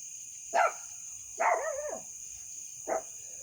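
A puppy gives three short, high yips spaced apart, the middle one longer and wavering, over a steady electronic hum.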